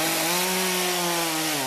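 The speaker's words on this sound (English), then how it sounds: "The buzzing of chainsaws filling the neighborhoods of Philadelphia, a day after nearly 14 inches of snow and blizzard winds pounded the city" A chainsaw cutting storm-downed trees in a Philadelphia neighborhood after a blizzard, a loud, continuous, close buzzing whine that holds steady and dips slightly in pitch as it bites into the wood.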